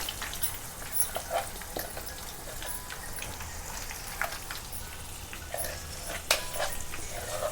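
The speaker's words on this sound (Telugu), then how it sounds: "ఇప్పుడు ఈ పచ్చడిని తాలింపులో కలపాలి" Tomato pickle chutney stirred into hot tempering oil with garlic and curry leaves, giving a steady close crackling sizzle with scattered sharp pops and spoon scrapes throughout, no voices.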